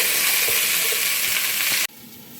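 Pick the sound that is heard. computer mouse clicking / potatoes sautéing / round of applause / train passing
potatoes sautéing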